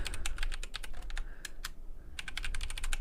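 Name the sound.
typing a password on a computer keyboard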